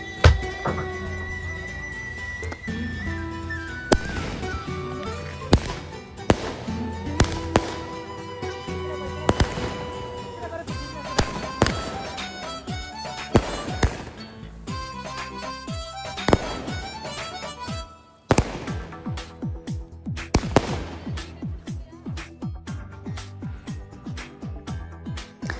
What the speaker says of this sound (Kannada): ಫೈನಲಿ ಪಟಾಕಿ ಹಚ್ಚಿ ಬರ್ತ್ಡೇ ಸೆಲೆಬ್ರೇಷನ್ ಮಾಡಿದ್ರು